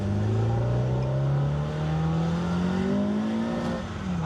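Porsche 356 engine droning steadily from inside the car during mild driving, a loud, close hum whose pitch slowly climbs as it pulls, then eases off near the end.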